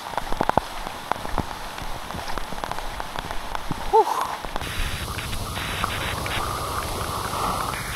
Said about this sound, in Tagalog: Ang sarap marinig yung mga tumatama sa mga dahon ng kahoy na patak ng ulan